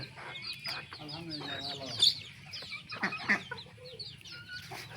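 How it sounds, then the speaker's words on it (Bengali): Native village chickens cluck and squabble nearby in a farmyard, with sharp bursts of scuffling and squawks over steady background clucking. "আর দেশি মুরগি কাণ্ড দেখেন এরা মারামারি করার জন্য বিখ্যাত"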